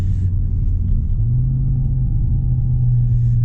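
2019 Audi RS3 with its stock filtered exhaust idling, a steady, heavily muffled low engine rumble close by with a slight rise in pitch partway through.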